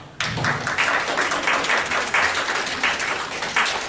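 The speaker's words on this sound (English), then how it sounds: "we're going to give a round of applause to Right on Juliet" A small audience at an evening event at The Timbers breaks into a short burst of close, lively clapping with distinct individual claps.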